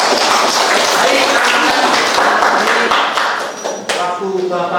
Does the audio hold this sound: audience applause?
yes